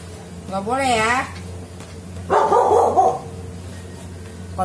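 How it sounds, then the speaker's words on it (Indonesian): A dog barks and yelps a couple of times at moderate distance in a quiet setting late at night, with a wavering whine-like call followed by a rougher bark burst. "Ini kan ada anjing lain. Tuh, gonggong gak jelas."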